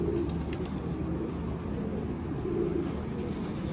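Soft, low cooing of pigeons rolls on continuously beneath a steady wash of background noise.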